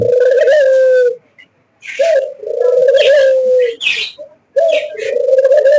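Caged pet pigeons coo in repeated low, drawn-out calls, close and fairly loud, in several bursts separated by short pauses, with a few higher chirps mixed in.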